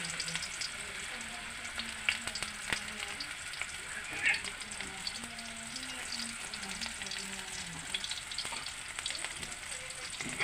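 Crab sautéing with garlic and ginger in a pan, a steady close sizzle and frying hiss with occasional scrapes and clinks of stirring, while faint background sounds and voices murmur low underneath.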